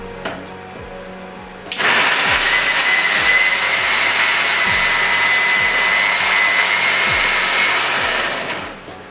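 A kitchen mixer grinder whirs loudly and steadily as it grinds tomatoes into a fine paste, starting abruptly after a quiet moment and running for several seconds before cutting off, with a high whine over the motor roar.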